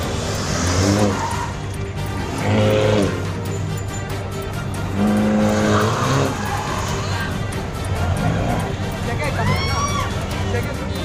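A Ferrari spun in circles on a public road sends out repeated tire squeals and skids in rising and falling waves, over engine revving, with a voice talking over it throughout.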